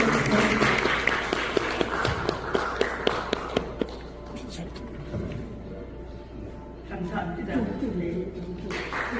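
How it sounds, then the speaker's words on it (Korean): Guests at a professor's seventieth-birthday book celebration in a university hall clap for a while, with a few sharp isolated claps standing out, then the applause thins under murmuring voices and movement. "여러분, 큰 박수 보내드리세요"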